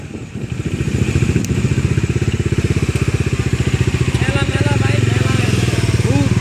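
Motorcycle engines idle with a steady, close pulsing rumble at a crowded bike gathering in Bangladesh, with crowd voices mixed through it.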